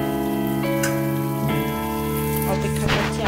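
Duck meat frying in a pan during kosha cooking sizzles steadily with soft crackles and pops, moderately loud and continuous, over a constant background hum.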